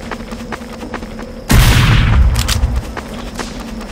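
Gunfire and a loud explosive blast in Team Fortress 2, with faint shots before a sudden close boom that rumbles and fades over a couple of seconds.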